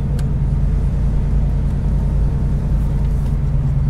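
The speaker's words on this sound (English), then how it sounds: "The exhaust sounds nice." A 1991 Ford Mustang GT convertible, a Fox-body V8, drives along on a cold clear day, its engine and exhaust giving a steady, close, loud low rumble throughout with no talk.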